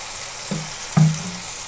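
Water splashes into a pan of frying capsicum with turmeric, giving two quick sizzling bursts that settle into a steady, close crackle of hot oil.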